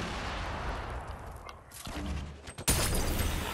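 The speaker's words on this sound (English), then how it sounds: "He'll be shooting grenades in, Matt." Grenades from a grenade launcher explode in a Fortnite match: a dense rumble of gunfire and blasts, a brief lull, then a sudden loud boom followed by sustained noisy crackle, with no talk.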